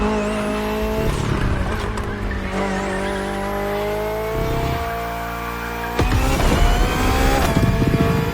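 BMW M Hybrid V8 endurance race car, a 2023 Le Mans prototype, in the video game The Crew Motorfest, roaring steadily at high revs with rising gear-change sweeps, tire squeal and a louder surge of engine noise near the end.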